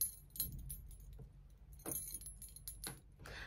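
Metal keys on a charm ring jangle together in a few bright, clinking bursts separated by short pauses, close and fairly quiet.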